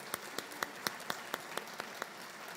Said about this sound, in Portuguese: Uma salva de palmas a Sofia.